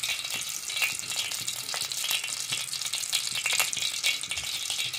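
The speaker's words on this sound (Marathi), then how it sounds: "तर आपलं तेल तर टाकलेलं आहे आणि आता मस्त तेल तापायला द्यायचा." Oil heats in a kadhai on a home stove, giving a steady, bright, crackling sizzle that stays even and fairly close throughout with no talking.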